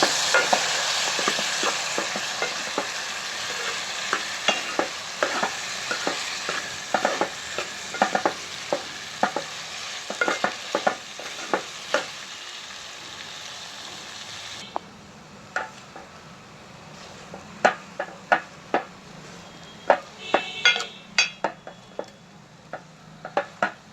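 Boiled potato pieces fry in a pan for a Telugu-style aloo fry, a steady sizzle with frequent sharp ticks of a spoon stirring against the pan; the sizzle drops quieter midway while the scraping clicks continue.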